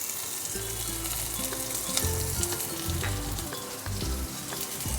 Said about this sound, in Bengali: পেঁয়াজগুলোকে একটু ভালো করে ভেজে নেব